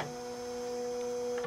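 A Bernina embroidery machine runs briefly after its needle button is pressed, giving a steady, faint electric motor whine and hum that holds level for about a second and a half with no talk.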